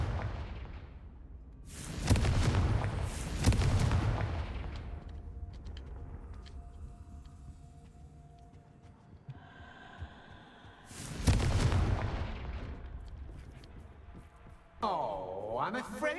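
Confringo spell blasts in Hogwarts Legacy: three loud, booming bursts, two close together early and one later, each with a rushing whoosh and rumbling tail over quiet ambient game sound.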